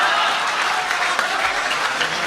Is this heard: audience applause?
yes